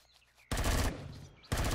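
Gunfire in Empyrion Galactic Survival: after a quiet start, a loud burst of rapid shots erupts, tapers off, then a second burst cuts in a moment later.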